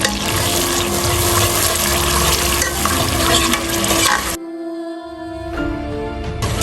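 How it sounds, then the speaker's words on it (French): Fresh tomato and tomato concentrate sizzle and fry in hot oil while being stirred, a steady loud crackle with a brief pause before the frying resumes, no voices. "On va griller le tout."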